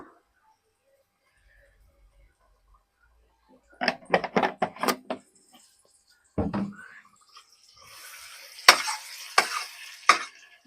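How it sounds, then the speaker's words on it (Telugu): A spoon stirs a mixture in hot oil in a pan, giving a quick run of scraping strokes followed by sizzling and clattering, with someone speaking briefly in between. "ఆయిల్ వేడైపోయింది కదా ఇప్పుడు మిక్స్ చేసేస్తాను"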